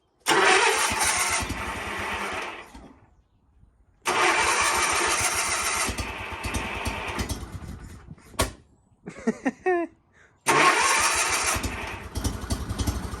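A Sears GT 19.9 garden tractor engine, unused for two years, cranks and catches, revving loudly, cuts out, then a few sputtering attempts follow before it roars back to life.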